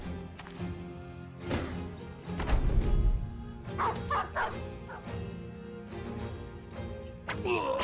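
A dog in the video game Battle Brothers barks and yips several times amid game sound effects, clear and fairly close, with some voices nearby.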